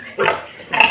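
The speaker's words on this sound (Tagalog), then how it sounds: "Baboy." A pig grunting beside a barbecue area, two loud close grunts separated by a short pause, alone with no talk over them.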